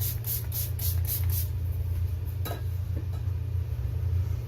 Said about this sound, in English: So I'm going to put on some setting spray.